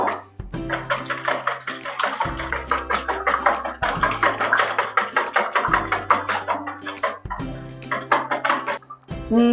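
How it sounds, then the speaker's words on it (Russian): Yeast dough batter with four eggs being stirred in a bowl, producing loud, close, rhythmic clinking and scraping strokes that repeat steadily over a low continuous hum. "И еще разочек хорошенько все перемешиваем"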